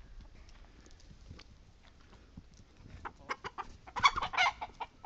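Backyard chickens being fed grubs one at a time cluck and scratch nearby, the sounds growing louder and busier toward the end.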